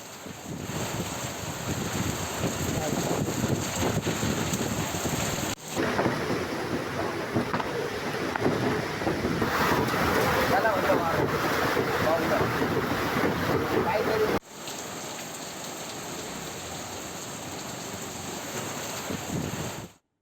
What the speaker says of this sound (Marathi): वादळी वाऱ्यासह जोरदार पाऊस झालाय